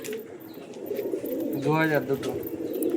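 Pigeons kept by a fancier cooing at a house, one clear rolling coo close by in the middle of the clip, with people talking throughout.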